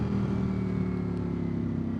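A 2024 Ducati Streetfighter V4S with stock exhaust runs steadily at a low, even rumble, close by and continuous, with no voices.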